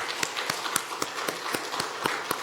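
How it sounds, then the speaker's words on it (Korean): Congregation clapping during a Sunday worship service in a church: faint, evenly spaced claps in a steady rhythm, quiet and somewhat distant. "박수 한번 할까요?"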